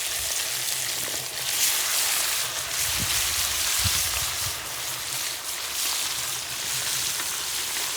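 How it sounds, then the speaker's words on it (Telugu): Murrel fish fries in hot oil in a village kitchen, a dense continuous sizzle with bubbling crackle, close and loud, with no voices. "ఇప్పుడైతే ఫ్రై చేసుకుందాం."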